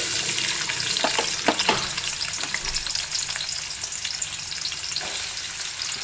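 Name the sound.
onions frying in hot oil with green chillies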